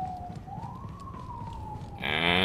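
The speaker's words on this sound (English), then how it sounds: "And that's the sound of the police." A police siren from the video game Star Wars Jedi: Survivor wails in one rising and falling sweep over a busy rumbling game background, then a louder, brighter electronic blare cuts in at the end.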